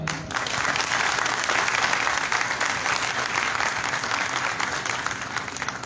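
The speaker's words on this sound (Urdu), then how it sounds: "میری ٹیم کے لیے تھوڑی سی تالیاں" An audience at a company's fifth anniversary event applauds the team, with dense, steady clapping that starts abruptly and continues loudly throughout.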